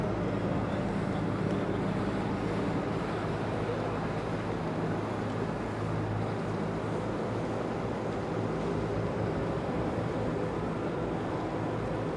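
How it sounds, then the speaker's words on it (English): A steady, loud rumble of a passing green iron boat's motor churns continuously nearby on the Grand Canal in Venice, with wind and water noise blending into the drone. "So that green iron boat that's pretty loud that just passed"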